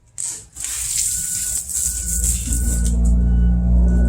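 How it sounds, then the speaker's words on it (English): Gentle shower of water spraying over a freshly planted edible container garden, rinsing the foliage clean; a steady, close hiss of falling water runs for about four seconds, with a faint low rumble underneath. "now I'm going to give the whole container a little quick shower"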